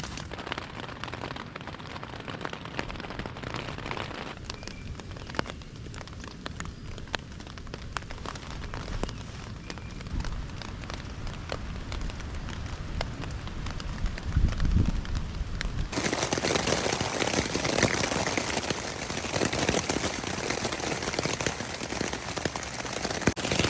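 Heavy thunderstorm rain drumming on a new tent at a lakeside campsite, a dense continuous hiss of drops close overhead that swells to a louder, harsher downpour in the final stretch.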